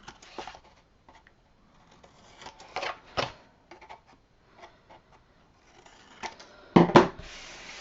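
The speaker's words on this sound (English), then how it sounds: "So you're going to go from that score line to that score line and just cut that corner off." Scissors cut a corner off scored card stock for a Christmas card box, giving scattered short snips and rasping cuts with a louder crunchy cut near the end, close by with no talk.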